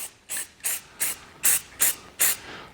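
Aerosol spray paint can laying light coats onto a damaged car bumper, seven short hissing bursts in a steady rhythm, close and fairly loud with brief pauses between.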